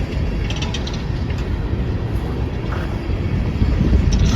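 An empty BNSF coal train rolling past, a steady loud low rumble of wheels and cars with heavy wind noise on the microphone, growing slightly louder toward the end.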